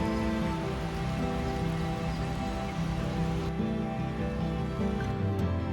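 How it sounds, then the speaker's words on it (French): Rain falls steadily through a forest, a soft continuous patter of drops on leaves and ground with a dense wash of hiss, even and moderately quiet throughout. "j'ai adoré, franchement, la forêt sous la pluie, c'était absolument magique"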